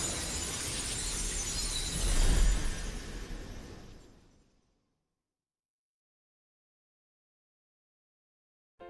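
Crystals shattering in Final Fantasy 16, a loud crashing burst of breaking crystal with a heavy low swell in the middle that decays over a few seconds into silence.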